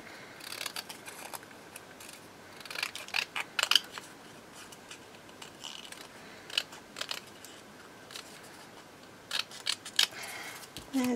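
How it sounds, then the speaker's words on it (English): Small scissors snip around paper craft labels for a junk journal, giving a string of short, crisp cutting clicks in irregular bursts, close and fairly quiet against a soft room background. "Let's just grab my little scissors."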